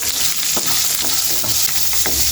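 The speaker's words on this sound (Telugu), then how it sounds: "ఇప్పుడు కొన్ని వెల్లుల్లి అల్లం ముక్కలు చూడండి ఇట్లా అన్ని మనం మంచిగా ఫ్రై చేసుకోవాలి" Garlic and ginger pieces fry in hot oil for stuffed brinjal curry, a loud, steady, close sizzle with a few faint stirring scrapes running through it and no voices.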